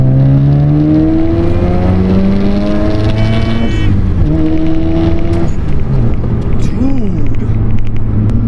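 A Mazda RX-7 rotary on a stock S5 turbo revs up hard through the gears, with rising engine tones that drop at each shift and climb again, loud and close throughout.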